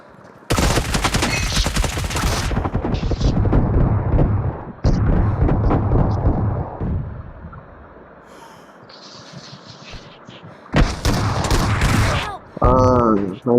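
BGMI gunfire rings out in loud, dense bursts of shots, with rapid rattling volleys at the start and again near the end. Quieter stretches in between hold game ambience, and a voice talks near the close.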